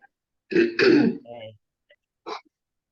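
Someone in another room clears their throat during a Zoom meeting, one rough burst of throat clearing followed by a smaller rasp and a brief later grunt, close and isolated in near silence.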